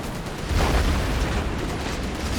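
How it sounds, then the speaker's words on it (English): Sentry gun firing in the Command and Conquer: Red Alert video game, a dense burst of rattling impacts and booms amid battle noise, lasting a couple of seconds. "Sentry gun gains some great damage."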